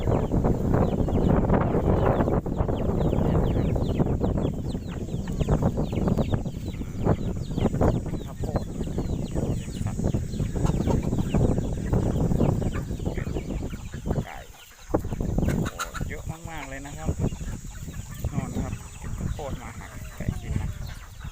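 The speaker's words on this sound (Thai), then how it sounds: "โอ้โหเป็ดไก่เยอะมากเลยนะ" A large flock of Muscovy ducks and chickens on a free-range farm in open rice fields, jostling over feed corn with constant loud clucking and squawking close by, someone talking over the din.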